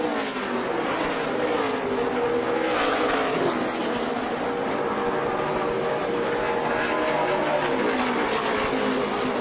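NASCAR Nationwide Series stock cars roar past at speed at Iowa Speedway, a continuous loud engine drone with shifting pitch as the pack passes, no talk over it.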